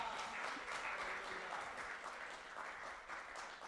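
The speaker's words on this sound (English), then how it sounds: "give a big clap to the Lord Almighty in the house of God" A church congregation claps together in steady, dense applause for the Lord during a Christian ministry service, held at a moderate, even level throughout with no voices over it.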